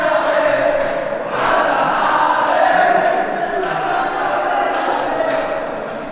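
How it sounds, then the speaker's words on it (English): Crowd noise from many people walking through Petra, a steady dense murmur of voices and footsteps surrounding the listener throughout, with no single speaker standing out. "the noise of the crowds as we walked through it"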